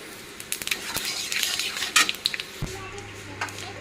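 Panch phoron and dried chillies, with a bay leaf, fry in hot oil in a pan. Close crackling and sizzling comes with scattered pops and stirring clinks, then settles to a low steady hum.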